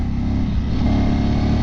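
A motorcycle engine with a loud aftermarket exhaust idles and revs close by, a deep throbbing rumble that swells slightly without pause.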